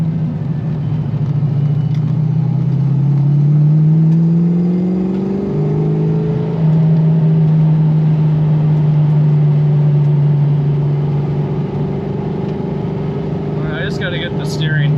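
A lowered 5.0 Foxbody Mustang rumbles steadily while driving through sharp corners, its engine tone rising and falling as it accelerates. The drone runs continuously and fairly loud from start to end.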